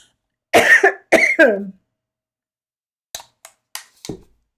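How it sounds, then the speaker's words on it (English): Several harsh throat-clearing bursts close up, then a pause followed by a few short, quieter clicks and coughs. "Let me clear my throat and take a drink of water."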